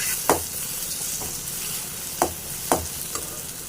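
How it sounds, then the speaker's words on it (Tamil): Plantain pieces with turmeric and asafoetida sizzling in a pan, with a steady frying hiss broken by a few sharp scraping knocks of a spoon stirring. "வாழைக்காய் எல்லாம் ஒரு கிளறி விட்டு நல்லா கிளறி விட்டாச்சு."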